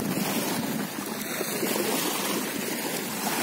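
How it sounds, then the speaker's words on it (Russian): Sea of Azov surf washes in as a continuous loud roar of breaking waves and hiss, with wind buffeting the microphone and no talk. "Шум моря, шум прибоя."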